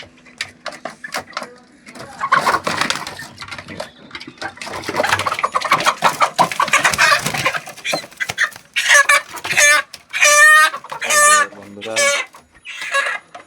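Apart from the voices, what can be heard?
domestic chickens clucking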